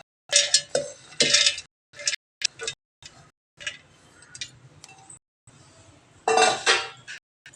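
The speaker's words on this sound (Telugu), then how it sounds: "మొక్కజొన్న మిక్సీ జార్లో వేస్తాము." Corn kernels tipped into a kitchen mixer jar in several close, hard rattling bursts with short pauses between pours.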